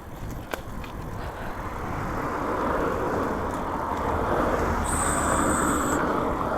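Road traffic hums and swells nearby in Sofia, heard from a bicycle, with a low, steady rumble of passing cars and one sharp click near the start.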